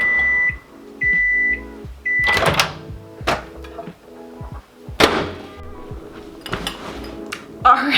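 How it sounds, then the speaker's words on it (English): Three short electronic beeps from a microwave, followed by clunks and thuds like a door opening and closing, with handling noises and brief speech. "I like to put it in the microwave just for a minute to a minute and a half."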